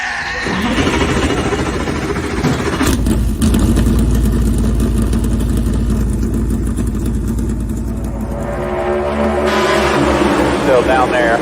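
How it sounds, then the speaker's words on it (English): A race car engine at Bristol fires up and idles loudly with a steady rumble, revving briefly midway, as people talk over it. "gentlemen, start your engine!"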